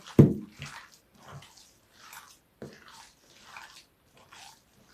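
Hands are wetted with water while shaping meat cutlets, giving one sharp wet slap followed by several soft splashy squishes at a slow, uneven pace, close and fairly quiet.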